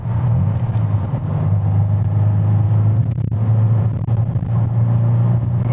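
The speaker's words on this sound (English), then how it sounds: "Now let's see how this car takes off" A 20-year-old 150 horsepower car with a clogged catalytic converter pulls away, its loud low engine rumble sustained and steady throughout, close to the microphone and with no voices.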